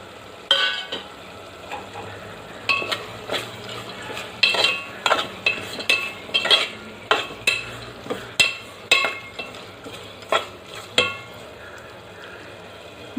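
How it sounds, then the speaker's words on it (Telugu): Prawns being tossed and cooked in a pan of gongura, with repeated sharp scrapes and clinks of a spoon against the pan over a light sizzle, no talking. "ఇప్పుడు దీనిలో రొయ్యలు కూడా వేసుకుందాం"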